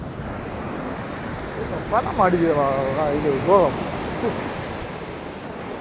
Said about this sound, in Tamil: இந்த கடலும் இந்த தண்ணி வந்து அந்த அலை வந்து பூகமாக வந்து